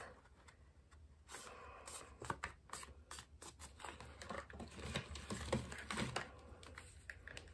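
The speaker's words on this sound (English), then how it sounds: "the one for the front of the card needs to be fussy cut" Scissors fussy cutting small bunny images out of paper for an Easter baby card, a steady run of close, crisp little snips and paper rustles with no talking.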